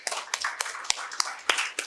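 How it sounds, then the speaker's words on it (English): A round of applause at the opening session of a business summit: scattered, uneven claps with sharp louder hits rising out of a soft patter, fairly near, with no talking over it. "a round of applause for our speakers"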